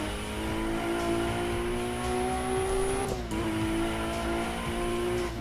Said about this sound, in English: Hear that turbo spooling, and you can literally hear the air rushing through the pipes.